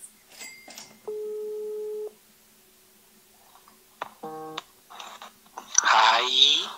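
A mobile phone places a call and gives a short electronic tone, a sustained steady beep followed by a rising stepped tone sequence, before people's voices and laughter come in near the end.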